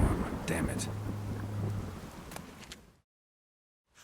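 Rumbling thunder and steady rain of a thunderstorm in the video game Witcher 3, a dense, fairly loud wash that fades out abruptly into silence near the end.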